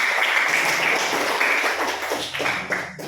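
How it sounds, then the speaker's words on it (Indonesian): Classroom applause from students during a lesson, a steady, dense patter of clapping hands filling the room for a few seconds before tapering off near the end. "Ya, berikan aplaus."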